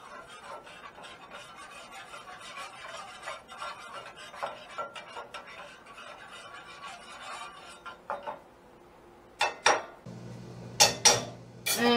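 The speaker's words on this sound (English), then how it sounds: "I'm just going to stir it so it's blending a bit." Scallops being stirred in a pan, with soft scraping and clinking of a utensil against the metal at a steady low level, then several sharper, louder knocks near the end.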